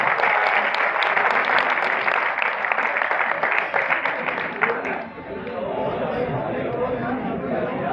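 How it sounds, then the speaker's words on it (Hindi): Enthusiastic audience applause welcomes filmmaker Syed Noor at a Lahore tribute event for a ghazal singer, dense clapping filling the room for about five seconds before fading into a murmur of crowd chatter. "भरपूर तालियां"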